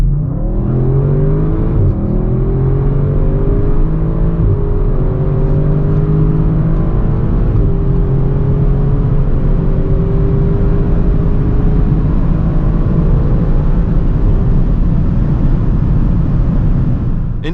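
Audi RS6 Avant at full throttle from 100 to 200 km/h, a loud, steady engine roar rising through the gears with short shift breaks, heard close and alone without talk.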